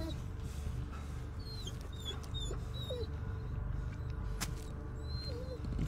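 A dog in the horror game Blair Witch whimpers in short, high, thin cries that recur a few times over a low, steady ambient drone, faint and somewhat distant, with no talk.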